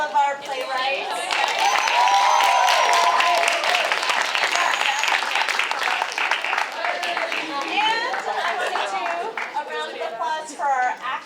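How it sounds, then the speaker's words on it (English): An audience at a young playwrights' festival reading gives a sustained round of applause for the playwrights. The clapping swells quickly, holds, then thins out, with cheering and some children's and adults' voices mixed in. "can I get a round of applause for all of our playwrights?"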